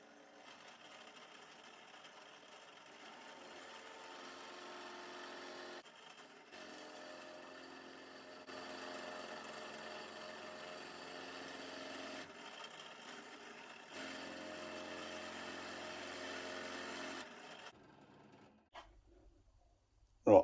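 A drill machine bores a 5.5 mm hole down into a steel keyway. It whirs faintly in long, steady stretches, with brief pauses between them, and then stops near the end.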